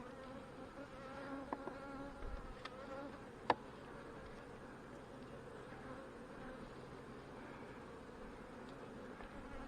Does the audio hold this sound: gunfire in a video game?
no